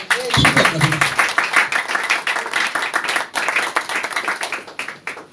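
A church congregation claps in praise during a French-language sermon, a dense, continuous wash of many hands, loud and close, sustained throughout with brief voices mixed in.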